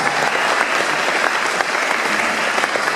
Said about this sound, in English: So yeah, big applause. Big applause.